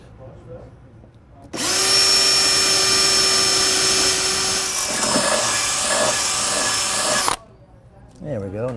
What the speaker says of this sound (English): that drill bit should be plenty big enough.